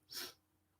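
A single sharp sneeze, close and fairly loud, bursting out over a quiet room and then fading into low background hiss.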